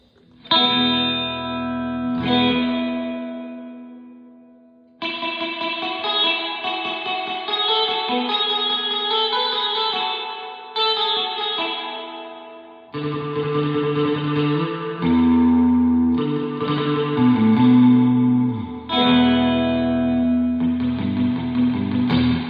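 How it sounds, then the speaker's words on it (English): Electric guitar notes and chords drenched in heavy, splashy surf reverb from a Surfy Industries SurfyBear Compact reverb pedal, with long drippy tails ringing between phrases. "That is that drippy surf reverb sound"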